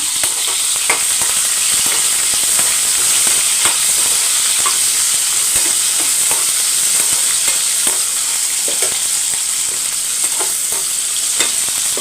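Shallots and drumsticks sauté in a pan for sambar, giving a steady close sizzle with frequent stirring scrapes throughout and no talk.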